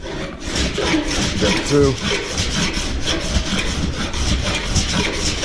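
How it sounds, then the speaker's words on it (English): A file works lead body filler on a car panel in fast, continuous rasping strokes, close and fairly loud, with someone speaking briefly over the scraping. "I'll show you how to file basically"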